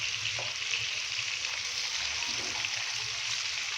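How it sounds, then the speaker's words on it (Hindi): Chicken pieces fry over a medium flame for a Kashmiri chicken masala, a continuous soft sizzle and crackle heard alone and fairly quietly. "मीडियम फ्लेम पे हमने एक साइड को 2 से 3 मिनट के लिए फ्राई करना है।"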